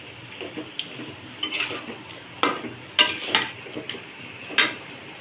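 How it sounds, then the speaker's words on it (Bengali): Chicken with spices sizzles softly in a pan, broken by a few scraping stirs and sharp splashy bursts, close and quiet with no talking. "এখন মুরগিটাকে একটু ভাজা ভাজা করি"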